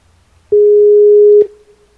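A Skype call tone sounds once as a clean, steady electronic beep lasting about a second, loud and isolated against near silence, with a brief click at its start and end.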